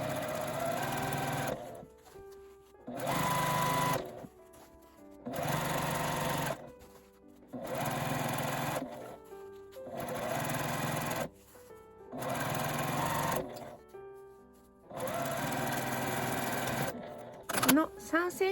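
Sewing machine stitching a seam 1 cm from the edge of a fabric tissue cover, running in seven steady bursts of a few seconds each with short pauses between, close and fairly loud.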